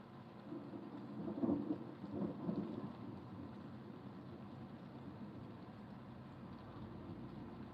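A thunderstorm pours steady rain while low thunder rumbles swell twice early on, then fade back into a constant wash of rainfall with no voices.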